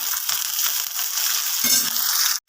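Mixed vegetables (ivy gourd, carrot, potato, beans) stirred into sautéed onions in a pan, a steady close sizzle with scraping stir noises throughout before it cuts off abruptly.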